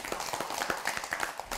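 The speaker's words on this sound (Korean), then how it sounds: "박수 한번 부탁드립니다" Small audience at a village gathering in Songdang-ri, Jeju, clapping in a quick run of sharp, separate hand claps over about a second and a half, fairly faint and without voices.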